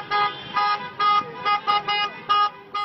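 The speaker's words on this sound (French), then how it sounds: "ce concert de klaxon n'a rien de spontané" Car horns honking in a street celebration in Tunisia, a run of repeated short blasts in an even rhythm, loud and close, about eight honks without talk.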